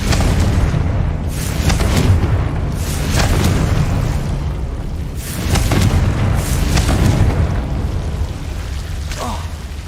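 Repeated Confringo explosive spell blasts in Hogwarts Legacy boom loudly over dense combat noise, several heavy detonations recurring every couple of seconds.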